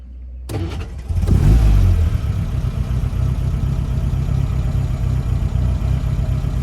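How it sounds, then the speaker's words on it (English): A 1956 Triumph TR3 engine cranks and catches with a loud burst, then settles into a steady, rumbling idle that carries on evenly, close by. "a quick video of start up and idling on this 1956 TR3."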